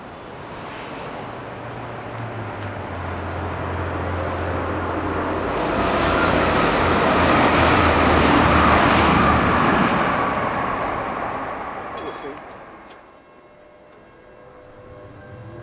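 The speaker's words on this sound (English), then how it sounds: "I think it's a Transpennine that's on its way." A TransPennine passenger train on Sheffield's railway near Tinsley and Brightside swells from a distant broad rumble to a loud, roaring peak as it passes, then fades quickly away, with no voices.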